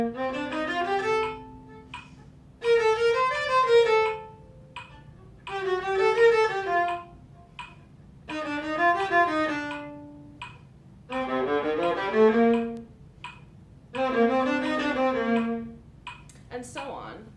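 A viola plays a Mozart passage in groups of sixteenth notes, each quick run of bowed notes followed by a short pause, repeated six times at close range and moderate loudness.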